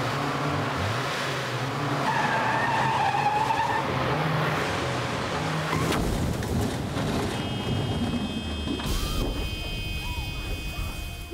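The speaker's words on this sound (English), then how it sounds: "he'd actually driven my car into a wall" A car skids and crashes into a wall in a Coronation Street scene, a loud engine and tyre rumble giving way to a heavy impact and clattering debris, with faint voices behind.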